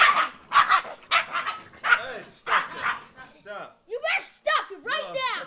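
Several puppies fighting, with repeated sharp yips, barks and whimpers in quick bursts, close and fairly loud, mixed with people talking over them.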